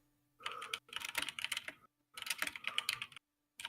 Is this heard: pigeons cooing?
no